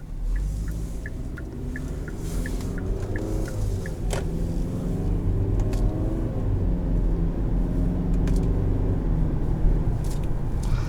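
Cabin view of a 2020 Kia Sportage SX Turbo driving and accelerating, a steady engine and road drone building gently, with faint ticking early and a few small clicks, no talk.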